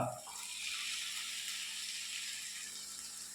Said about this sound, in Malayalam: ശകലം വെള്ളം ഒഴിച്ചു കൊടുക്കുക